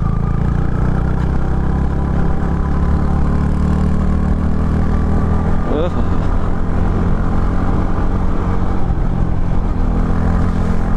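Japanese-engined motorcycle running steadily on a rough, risky gravel mountain track, a constant low engine drone throughout with a person talking over it.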